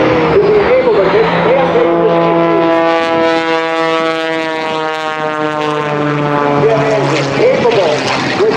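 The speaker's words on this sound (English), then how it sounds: "who have brought to you the triple jet engine powered Earwell truck" A triple jet engine powered truck roars at an airshow, a loud sustained whine with rising and falling harmonic tones as the engines spool, heard up close.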